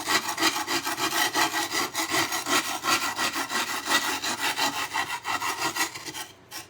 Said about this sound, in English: It's metal. So you just scrape.